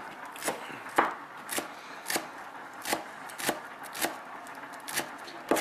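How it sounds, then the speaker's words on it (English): A knife chops through a bunched pile of herbs on a board for spaghetti bolognese, with about ten crisp, evenly spaced strikes close by and no talking. "So put them all together and cut it. Bunch them all up like that, like so."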